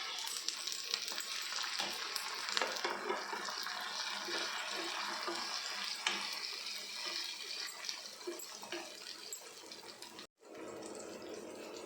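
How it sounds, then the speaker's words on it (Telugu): Chopped tomatoes cook in fried onions in a pan, giving a steady, moderately loud wet sizzle with occasional stirring clatter that runs unbroken until a brief gap near the end. "ఇలా ఫ్రై అయిన ఆనియన్స్లో కట్ చేసిన టమాటాలను వేసి 5 నిమిషాల పాటు మగ్గించాలి"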